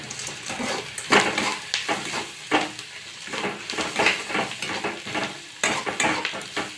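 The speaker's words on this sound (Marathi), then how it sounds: "शेंगदाणे टाकूया" Peanuts sizzle and rattle in a pan while making spicy upma, as a spoon repeatedly scrapes and stirs them in uneven strokes.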